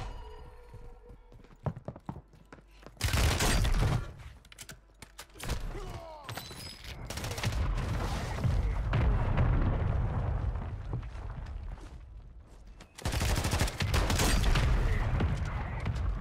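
Shotgun blasts in Warzone 3 come in loud, dense bursts, heavy booming shots and clatter alternating with quieter gaps of footsteps and game ambience.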